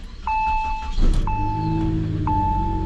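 A high-mileage Saab 9-5 Aero, past 200,000 miles, cranks briefly and settles into a steady low idle, while repeated electronic warning chimes sound from inside the car.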